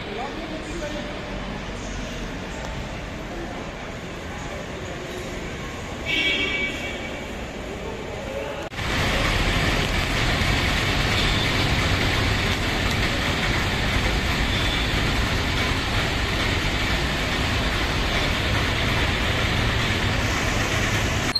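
A detached locomotive engine pulls away along the track at Kanniyakumari station after the Chennai express arrives, a steady rumbling rail noise that grows sharply louder midway and continues as a broad, sustained roar, with some talk heard early on.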